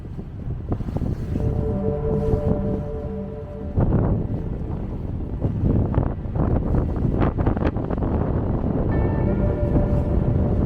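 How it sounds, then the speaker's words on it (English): Strong wind buffets the microphone while a sailboat is brought in to dock, a loud continuous rumbling roar with gusts and sharp clatters throughout, no voices. "we have a lot of wind"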